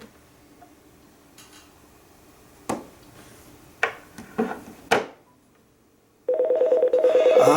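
A mobile phone being used to place a call: a few separate taps and clicks, then a steady pulsing dial tone close by at the end, no voices.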